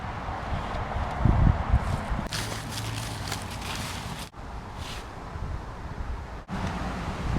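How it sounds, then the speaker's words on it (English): Steady outdoor breeze gusts around a hung homemade bridge hammock, with broad windy rush and rustle that swells and drops throughout, fairly loud and continuous with no talking. "It's a little breezy today."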